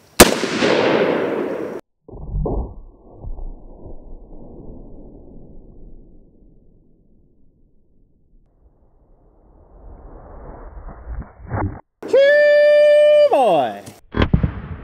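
An air-pressurized plastic Gatorade bottle is shot and bursts with a sharp, loud bang that trails into a fading rumble, followed by quieter rustling and a later short burst of other noise.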